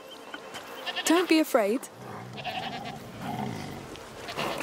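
A goat in A Plague Tale: Requiem lets out a few wavering, nasal bleats close by, briefly overlapping spoken dialogue, which then continues over quiet ambience.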